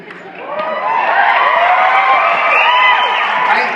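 An audience greets Buzz Aldrin with cheering and applause. Whoops and shouts rise quickly over a dense bed of clapping and crowd noise, loud and close, lasting the full few seconds.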